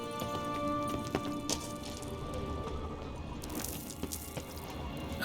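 A horse in the video game The Witcher 3 moves with irregular clopping hoof impacts over a busy background of ambient game sounds, with no speech.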